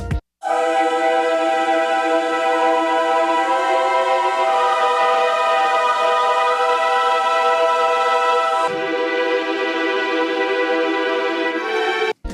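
Sustained orchestral strings and brass-like chords swell in a thick, layered mix, holding steady before shifting harmony near the end, then cutting off.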